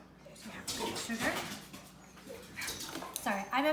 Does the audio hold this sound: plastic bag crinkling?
no